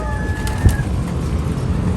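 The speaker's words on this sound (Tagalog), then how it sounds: "Katulad ng mga kalapati natin dito to." Pigeons cooing in a loft, with a soft low coo rising briefly amid steady background rumble and a faint high tone, close and fairly loud.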